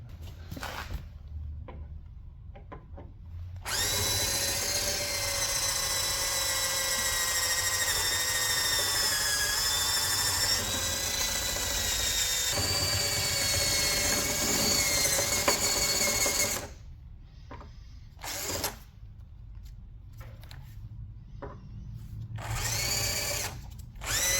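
A power drill drilling out a rivet on a 2015 Chrysler 200 trunk whines steadily for about thirteen seconds, its pitch wavering under load, then cuts out, followed by short bursts and quiet handling noises.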